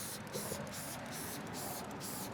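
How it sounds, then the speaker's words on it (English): Steady hiss of NXTZEN ZNR rinseless wash pre-spray misted onto a car's back door, broad continuous spray noise lasting throughout at moderate level with no talk over it. "so I'm going to do the pre-spray on that."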